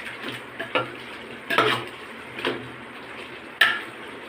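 A spoon stirs soaked rice mixed with cardamom and cloves in a pot, giving soft scraping strokes with a few sharper clinks against the metal over a faint sizzle, close and fairly quiet.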